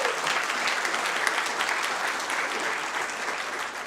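An audience at a city council meeting gives steady, full applause for the Santa Ana High School girls wrestling team, with dense continuous clapping throughout and no speech.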